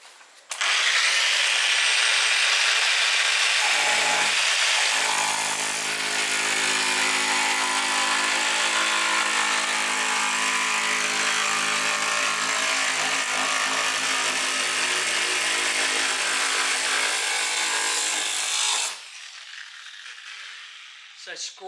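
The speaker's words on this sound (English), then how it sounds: "Use the grinder to scribe your first line." An angle grinder cuts into the rusty front guard panel of a Holden HK, HT or HG, a loud continuous whine that runs steadily for nearly twenty seconds before winding down, close up.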